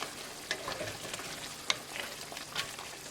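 Lobster and potato curry being stirred in a pan after fresh coriander goes in, with a soft steady sizzle and faint scraping strokes, quiet and close, no speech.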